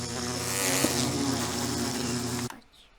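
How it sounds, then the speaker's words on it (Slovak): A bee from the Minecraft video game buzzes with a steady, close drone for about two and a half seconds, then cuts off abruptly into near silence. "Dáme si takto včelu."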